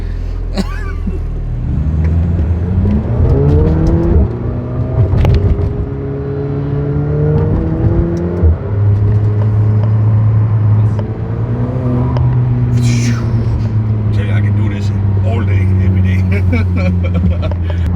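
A McLaren supercar pulls out of a driveway, its engine humming loud and steady with rising and falling revs and a deep drone throughout, while people talk over it.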